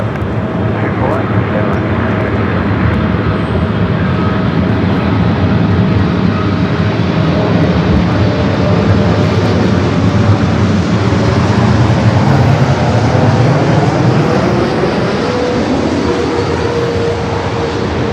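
A British Airways Boeing 747-8 Intercontinental lands at LAX, its loud continuous jet roar filling the scene, with a slow pitch sweep as it passes, while a radio voice talks over it.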